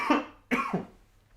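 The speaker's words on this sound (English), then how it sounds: "Oh, I've got a bit of cough." A person gives two short, close coughs in quick succession, the second slightly stronger, followed by quiet.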